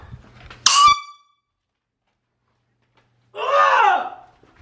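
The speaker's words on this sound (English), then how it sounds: "Give me the air horn." Air horn blasted in a prank on a sister, a sharp short honk at the start followed by silence, then a longer wavering blast or scream-like tone near the end.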